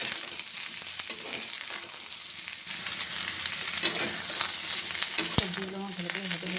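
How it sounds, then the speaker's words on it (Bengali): Mixed vegetables with capsicum fry in a pan with a steady, close sizzle, broken by occasional scrapes and clinks of stirring. "ক্যাপসিকামের সাথে সবজিটাকে আর 2-3 মিনিট ভেজে নেব"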